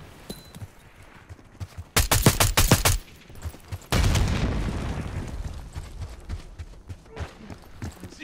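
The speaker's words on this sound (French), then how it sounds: "J'ouvre le feu." Bursts of gunfire from the shooter game Black Ops VI: a rapid string of loud, close shots followed by a heavy blast that rumbles and fades, with no talk over it.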